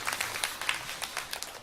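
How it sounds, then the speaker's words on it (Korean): A church congregation at a Sunday worship service claps together in a short burst of light, scattered applause that sounds somewhat distant and thin. It stays fairly quiet, with no voices over it. "우리 박수로 한번 축복해 주시기 바라겠습니다."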